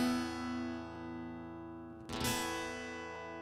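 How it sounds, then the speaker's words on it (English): An acoustic guitar rings out a sustained chord, then about two seconds in all the strings are strummed at once, giving a loud, bright burst that rings on and slowly fades. "I can play all the strings at once and get a lot more sound."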